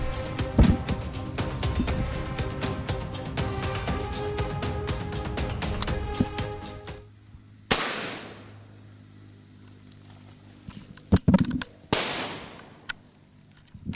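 Gunfire during a firefight in a jungle: a dense stretch of rapid shots followed by sparse, sharp single cracks echoing among trees, with no voices.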